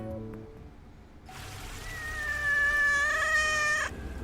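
Meowing cat from the 3D platformer River Tails: Stronger Together, about a cat and a fish, sounds over game music as one long drawn-out mew that rises and then cuts off sharply.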